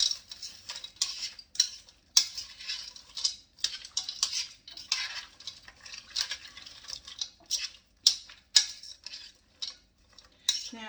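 A spoon stirs green beans in broth in a pot, giving irregular clinks and scrapes against the metal with soft wet sloshing between them, close and fairly quiet.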